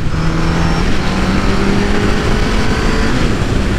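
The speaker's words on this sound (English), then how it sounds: "Car spotted." A car drives past nearby, its loud engine note holding steady and rising slightly in pitch across several seconds as the vehicle goes by, with no talking.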